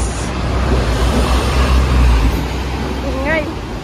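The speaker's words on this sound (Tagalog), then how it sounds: "Yung bus." A bus rumbles in busy street traffic on the way to a market, its deep engine drone steady and close. The sound of other vehicles surrounds it, and a voice talks over the noise.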